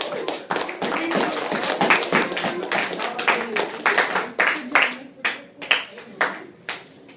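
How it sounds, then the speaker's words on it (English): A class gives a round of applause, a dense burst of many hands clapping that thins into scattered, separate claps near the end, with faint voices underneath. "Can we have a round of applause"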